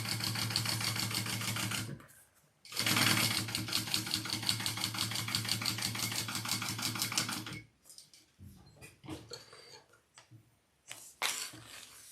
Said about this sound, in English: I'm just going to sew along this bottom part